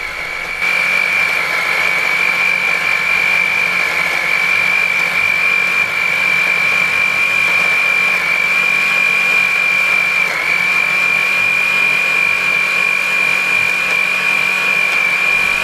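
An electric kitchen blender runs continuously with a freshly sharpened blade, a loud steady motor whine with a strong high tone that holds without a break.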